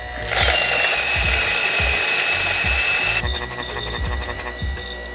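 An Urbanic 080 coffee grinder grinds coffee at a fine espresso setting, giving a loud, steady, harsh whir that runs for about three seconds and then drops to a lower, rougher rattle as the last beans clear.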